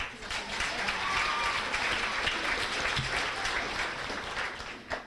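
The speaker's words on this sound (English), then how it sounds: "So a round of applause for them, please." A high school sports banquet audience gives a full round of applause for the coaches, a thick, steady wash of clapping that holds for about five seconds before tapering at the end.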